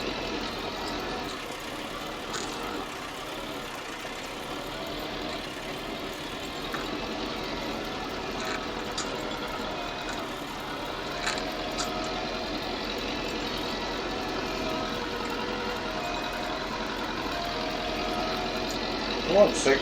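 A Massey Ferguson 165 tractor engine idles steadily and fairly loudly for the whole stretch, with a constant rough mechanical drone and no voices.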